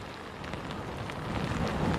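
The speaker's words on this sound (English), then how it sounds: "That wind and rain together can be quite dangerous" Heavy wind and rain from Hurricane Helene in Panama City, Florida, a dense, constant roar of rain and gusting wind that stays loud and close throughout with no speech.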